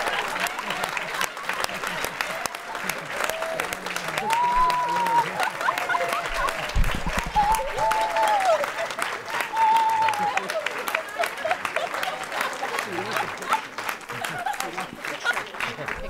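An audience applauds at a school board meeting, sustained clapping from a crowd lasting throughout, with voices talking and calling out over it.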